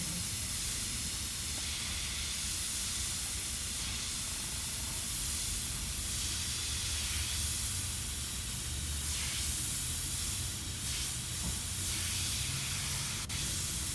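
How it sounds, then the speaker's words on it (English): An airbrush spraying paint along the teeth of a skull stencil artwork, giving a continuous soft hiss that stays even and fairly faint throughout, with no talking. "Come in with the airbrush and kind of just follow the teeth lines I can already see."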